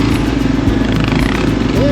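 A loaded adventure motorcycle strapped with camping gear rides over rough, slippery terrain in Kosciuszko, its engine pulsing loud and close with steady throbbing revs, while a voice talks over it.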